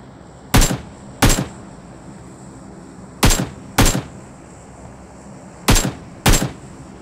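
Six sharp gunshots from PUBG Mobile ring out in pairs, two quick shots then a pause, repeated three times over a low background hum.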